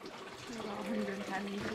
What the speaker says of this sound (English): Liv is just filling the water there